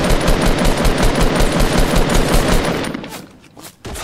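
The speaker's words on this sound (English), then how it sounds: "why are you shooting at me?" Loud, close, continuous automatic gunfire in Fortnite Battle Royale on PC, a dense rattling stream of shots that thins into a few scattered bursts near the end.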